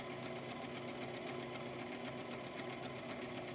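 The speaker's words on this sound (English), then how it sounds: "With this silk, it's hard to sew." A sewing machine runs continuously as it stitches silk fabric for a lining, giving a steady, close mechanical whir with a fast, even needle rhythm and no talking.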